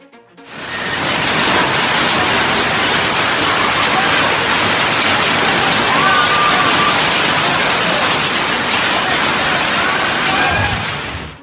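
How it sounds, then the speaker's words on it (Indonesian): A giant hailstorm in Kuban, Russia, with a loud, steady roar of hail pounding surfaces, continuous for about ten seconds without letting up. "hujan es besar-besaran menghujani wilayah Kuban di Rusia"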